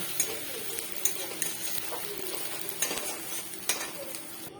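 Fried onions lifted out of a hot pan with a utensil for a small-fish kachki chachchari, a light sizzle under repeated scraping and clinking strokes at an even pace, close and fairly quiet.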